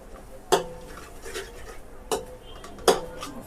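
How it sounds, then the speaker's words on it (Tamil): Spoon scraping and clinking against a pan while masala is stirred and sautéed for prawn biryani, three distinct close metallic strokes with softer stirring between them and no talk. "மசாலா கொஞ்சம் நல்லா வதங்கட்டும்."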